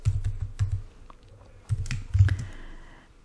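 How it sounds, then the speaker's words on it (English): Bursts of clicky keystrokes on a computer keyboard as code is entered, close and fairly crisp, arriving in short rapid clusters separated by brief pauses, with no talking. "Let's just first type it in."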